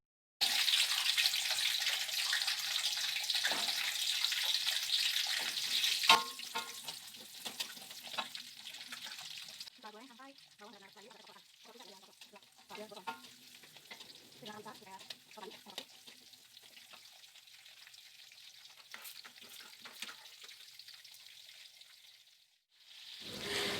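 Garlic and shallots fry in oil in a wok with a loud, steady sizzle at first, then quieter crackling as a utensil scrapes and stirs, with clinks near the end.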